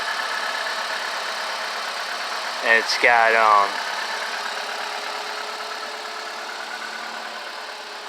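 A car engine idles quietly and smoothly with a freshly replaced 1020 battery, a steady low hum running throughout while someone speaks briefly near the middle.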